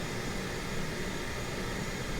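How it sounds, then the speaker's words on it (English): Steady broadband whine and rumble of an Airbus A320 auxiliary power unit running at the gate before pushback, continuous and even throughout with no talk. "Once we make sure to hear that the APU is good, we'll listen here."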